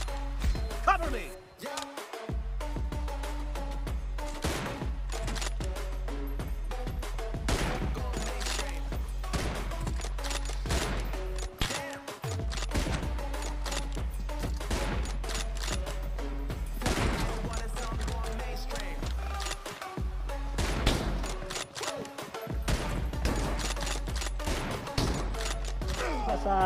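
Rapid bursts of gunfire from BGMI, the mobile battle royale game, crackle almost nonstop over a loud, steady game soundscape with low rumble, while players talk over the shooting.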